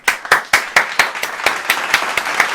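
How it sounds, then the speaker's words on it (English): Rhythmic group clapping at a steady beat, about ten sharp claps in quick succession, close and loud, with handclaps that stay evenly spaced and no talk over them. "Everybody clap it up."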